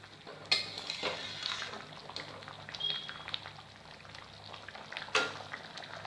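Chicken biryani simmering in a pot as a spoon stirs through it, soft bubbling and scraping with a few sharp clinks of metal, likely the lid, near the start and end, all fairly quiet.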